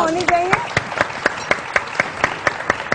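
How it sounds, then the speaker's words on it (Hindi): Studio audience on a Pakistani morning show claps in a loose, uneven burst, with sharp individual claps standing out over a steady crowd wash and a voice heard briefly at the start. "तालियां होनी चाहिए।"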